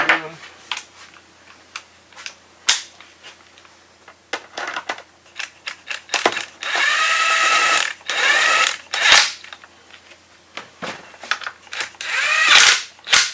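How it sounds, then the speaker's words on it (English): A DeWalt impact gun drives a bolt into a Suzuki Samurai transfer case casting, giving repeated short bursts of loud rattling hammering with brief pauses between them, close to the microphone. "A real powerful gun, that DeWalt there, so I don't want to do any damage."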